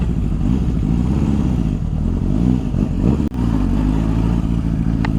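A Honda CB750 barn-find motorcycle, warmed up, idles loud and close with a steady throbbing rumble, and a brief dip partway through before the even beat carries on.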